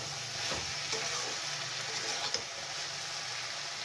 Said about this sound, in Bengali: ডাঁটা পেঁয়াজ কুলি দেওয়ার পরেও আমি এটাকে ভালো করে নেড়ে ছেড়ে দেব